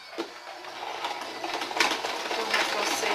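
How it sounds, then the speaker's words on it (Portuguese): A sewing machine stitching a fabric dish towel, with a fast steady mechanical whir and light rattling that builds slightly in loudness, close and alone. "Então, vamos passar a costura aqui."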